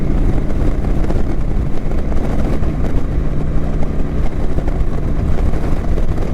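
A Kawasaki Vulcan 900 motorcycle cruises in fourth gear at about 50 mph, a loud steady engine drone mixed with heavy wind rush and no break for the whole stretch.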